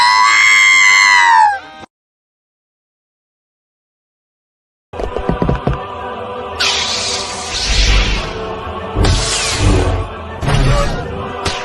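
A human voice imitating the droid R2-D2 from Star Wars letting out its shrill, warbling scream, loud and alone for about two seconds, followed by silence and then talk and laughter from several people.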